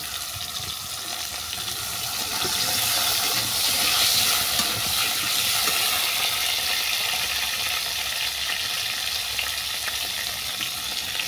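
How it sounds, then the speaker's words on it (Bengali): Kohlrabi and potato pieces fry in hot oil, a dense, loud, unbroken sizzle and hiss with light stirring, swelling a little and then holding steady. "এর মধ্যে ওলকপি আর আলুটাকে ভেজে নিচ্ছি।"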